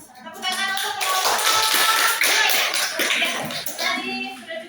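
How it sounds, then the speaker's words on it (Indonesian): A university classroom gives a student group a round of applause, with dense, steady clapping from many hands that fills about four seconds before tapering off. "Tepuk tangan untuk kelompok."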